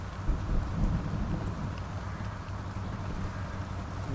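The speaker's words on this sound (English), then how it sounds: "nice thunder effects in the audio there." Rain and rolling thunder effects in the truck-driving game Snowrunner, set in Michigan: a constant soft hiss of rain over low rumbling thunder, fairly quiet and unbroken.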